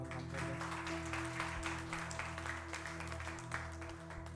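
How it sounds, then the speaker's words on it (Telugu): A congregation at a Telugu Sunday church service claps loudly and steadily throughout, a dense, continuous patter over sustained musical tones. "గట్టిగా చప్పట్లు కొడుతూ ప్రభు"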